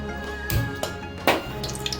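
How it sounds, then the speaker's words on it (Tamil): Amman pacharasi leaves are swished and rinsed in water, making close splashing and sloshing sounds in a few bursts with dripping in between, and no talking. "தழையை எடுத்து தண்ணியில் போட்டு இப்போ நல்லா இருக்கிற நல்லா அலசிடணும்"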